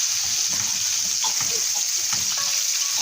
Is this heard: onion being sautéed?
yes